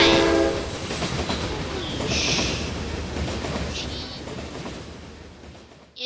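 A train in the Brick Rigs video game rumbles and clatters along steadily, with a horn blast at the start and brief higher tones sounding over the rolling noise that fades toward the end.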